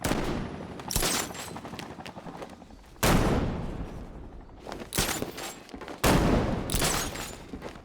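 Repeated loud bursts of gunfire in Batman Arkham Knight, sharp onsets that decay into rumbling echoes, coming in four distinct volleys spaced a second or two apart.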